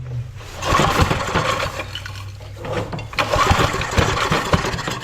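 A vintage Homelite generator engine, sat unused for 30 years, runs rough and low near the microphone, surging and sagging unevenly as if barely idling.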